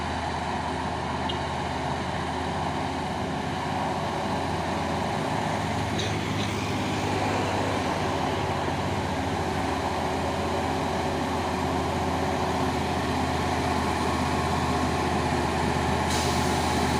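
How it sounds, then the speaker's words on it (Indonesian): A Fuso trailer truck hauling a container climbs an uphill road, its heavy diesel engine droning steadily and loud, with short hissing air-brake releases standing out near the middle and the end. "Masuk lagi satu unit truk trailer Fuso ini ya, membawa apa ini?"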